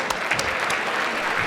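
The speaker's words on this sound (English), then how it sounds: "y'all just give a round of applause" A crowd at a hip-hop science event gives a round of applause, with brief, dense clapping and a few sharper claps near the start.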